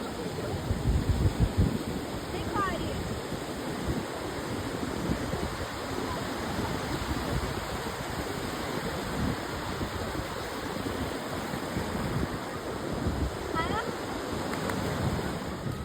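Ocean surf at the beach at Jagannath Puri roars loud and continuous, with wind buffeting the microphone and faint voices now and then behind the waves.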